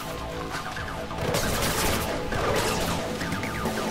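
Gunfire in the video game Mirror's Edge Catalyst, a dense continuous burst of rapid shots and impacts that grows louder and busier after the first second.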